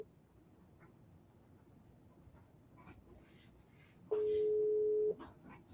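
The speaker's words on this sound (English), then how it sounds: "It's a phone ringing, right?" A phone rings out on a call, giving a single steady electronic ringback tone lasting about a second, quiet and clear against a hushed room.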